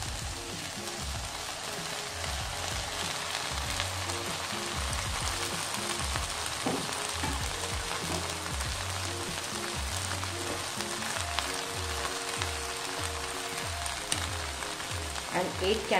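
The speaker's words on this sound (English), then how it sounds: "Now we have to cook this thing till the tomatoes are nice and soft and mushy." Roughly chopped tomatoes sizzle in a pan for a tawa grilled butter chicken gravy, a constant soft frying hiss with faint stirring and a low rhythmic pulsing underneath.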